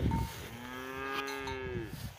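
A dairy cow in a corral lets out a single drawn-out moo, clear and fairly close, with a faint rustle of background noise.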